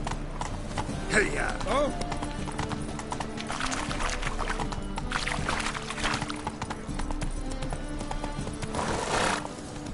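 A horse gallops in the video game The Witcher: Wild Hunt, with continuous close hoofbeats and a brief whinny, while a voice calls out a few short words over it.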